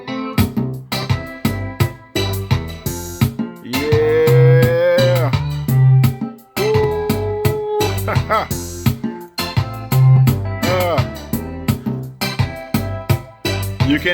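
A Haitian kompa beat plays, with a punchy bass line, drums and synth melody repeating in a loud, steady groove with short breaks.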